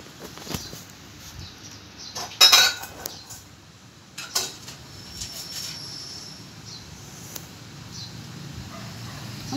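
Dishes and cutlery clink at a home family meal as rice is served, with a few sharp bright clatters near the start, then quieter scattered taps over a low room background; no talking.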